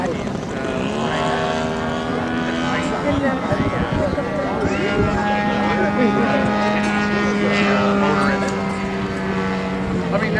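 A large radio-controlled model Piper Cub airplane, built at 40% of full scale, flying at the Yuma air show, with its engine droning steadily and shifting in pitch as it passes, while people talk over it.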